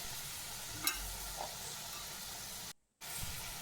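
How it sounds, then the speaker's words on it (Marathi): Onion and tomato sauté in hot oil with a soft, continuous sizzle and hiss, faint and close, with one brief drop to silence near the end. "टोमॅटोसुद्धा कांदा टोमॅटो एकत्र मी तेलात परतून घेतला आहे"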